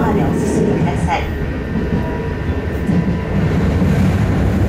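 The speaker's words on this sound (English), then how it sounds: "This is the 信越 line train bound for 長岡。" A JR Shinetsu Line local train running from Naoetsu toward Kakizaki, bound for Nagaoka, rolls along with a loud, steady interior rumble and faint rail clatter, while a recorded voice announcement plays over it.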